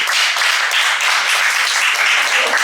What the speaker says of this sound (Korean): 하나님께 영광의 박수 드려볼까요?